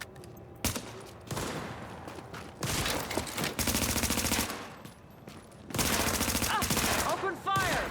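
Rapid bursts of video game gunfire, loud and dense automatic fire in several long volleys with short gaps, ending in a final sustained burst.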